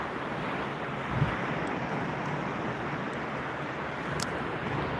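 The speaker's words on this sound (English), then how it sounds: "Can't you hear the therapeutic sounds of the waves clashing?" Broad, steady wash of surf noise with a low rumble, ocean waves rolling continuously onto a beach at a moderate distance, a couple of faint thumps, no talking.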